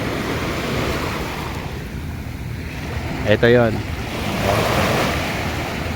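Steady broadband rush of surf washing on a shore at La Fraternidad, Tubay, Agusan del Norte, Philippines, with wind, a brief spoken phrase cutting in midway.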